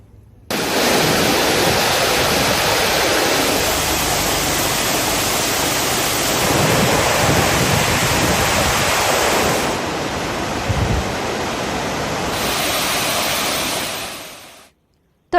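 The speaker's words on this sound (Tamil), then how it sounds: "பூக்கால் போன்ற பல்வேறு கிராமங்களில் ஆங்காங்கே புதிதாக சிறு அருவிகள் உருவாகியுள்ளன" Small waterfalls that have newly formed near villages pour with a steady, broad rush of water. The sound runs loud and continuous for most of its length, then thins slightly before ending.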